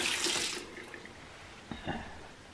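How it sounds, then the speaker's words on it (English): Running water from a kitchen tap splashes as hands are washed while preparing a bacon-wrapped pork loin, a steady rushing stream fading after half a second, followed by a couple of brief splashes. "Let me wash my hands here."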